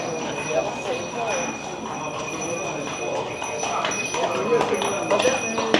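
Horse hooves clip-clop on the stone streets of Mdina, Malta, a rhythmic clatter in a busy town square with a faint background hum.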